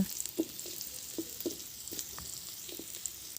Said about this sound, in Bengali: পেঁয়াজটাকে আমি তেলে ভেজে নিচ্ছি